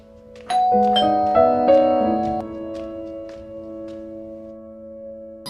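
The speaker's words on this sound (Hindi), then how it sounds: "फिर डोरबेल किसने बजाया?" A doorbell chimes a two-tone ding-dong, ringing clearly and then fading out slowly.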